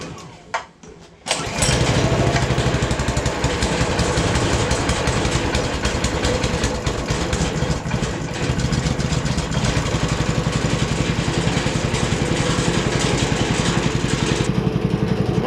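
A small engine on a rebuilt concrete mixer saved from scrap catches after a brief start attempt, then runs loud and close with a steady, rapid chugging throb for the rest of the clip.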